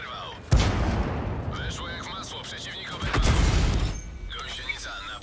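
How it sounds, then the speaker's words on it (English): Artillery fire booms in a tank video game: a sharp heavy blast at the start, then a second rolling explosion midway, with battle noise and a voice talking over parts of it. "Well, at least the artillery's helping."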